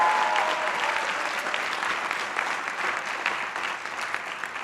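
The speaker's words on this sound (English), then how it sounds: "can we please give another round of applause for Tom Kitt and all of the other speakers?" Steady, dense applause from a large crowd at the Columbia College graduation ceremony, sustained throughout at an even level with no speech over it.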